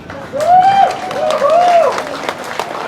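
Wedding guests at a reception applaud in a lively burst, with scattered claps layered under a loud whooping cheer from one voice near the start and middle.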